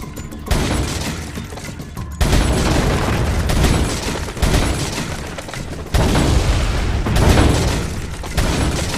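Heavy booming TNT blasts in Resident Evil 4 erupt in several bursts, each loud onset followed by a long rumbling, crackling decay, with gunfire-like clatter between them.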